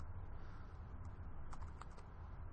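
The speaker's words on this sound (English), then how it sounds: "I'm going to start typing in here" Typing on a computer keyboard, a quiet run of soft key clicks with a brief denser burst of taps partway through, set against a low room hum.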